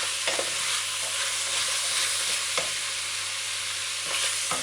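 Ingredients are stirred into a pan of chicken chop suey under a loud continuous sizzle, with a few distinct spatula scrapes spaced through it, close and without talk.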